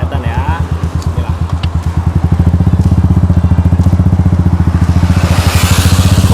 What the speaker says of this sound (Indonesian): Motor Royal Enfield Meteor 350. Kita jalan santai dulu, ya kan?